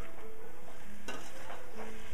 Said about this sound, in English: We're going to stir this all around so it gets coated well with the oil.